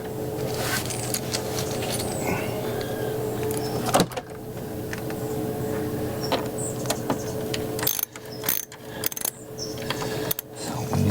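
Mechanical work on the passenger side door of a 1995 VW Golf MK3 2.0L 8v: close clicks, metallic rattles and ratcheting, with sharper knocks and clatters near the end.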